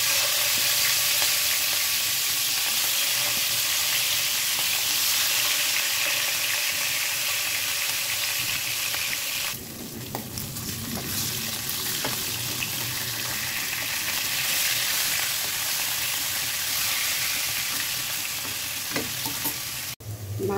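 Fish frying in a pan of oil for a home-cooked meal, a steady loud sizzle throughout with some stirring and a brief quieter dip midway, no talking.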